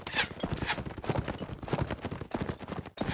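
Horse hooves clip-clop in Mount & Blade: Warband, a steady close trot of hoofbeats running throughout with some scattered sharper game noises mixed in.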